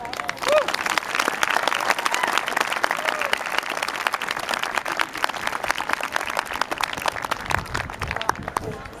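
Sustained audience applause at an outdoor country fair welcoming a keynote speaker, steady dense clapping throughout with crowd noise and a brief voice near the start.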